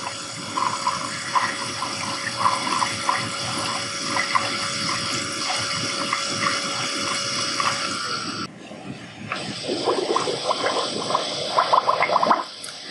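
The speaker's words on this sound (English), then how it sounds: "It's filling and emptying the tank to rinse out the particles and get the system ready for the" A laboratory particle size analyser for battery electrode materials fills and drains its water tank, giving a loud, steady rush of flowing and pumped water that briefly dips, then surges back with gurgling toward the end.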